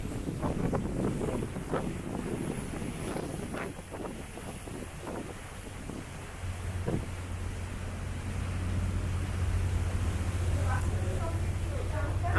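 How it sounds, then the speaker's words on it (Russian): Strong wind roars and buffets the microphone on an open boat deck on Lake Lucerne, with an engine hum joining partway through and brief bits of talk. "но очень сильный ветер"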